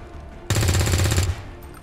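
A burst of rapid gunfire at a target in XCOM 2 erupts suddenly, rattling loud and close for under a second, then cuts off to quiet background.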